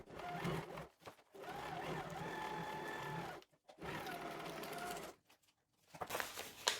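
An Usha Stitch Magic sewing machine stitches a tuck in fabric, a steady motor hum with a needle rattle that runs in several bursts separated by brief stops.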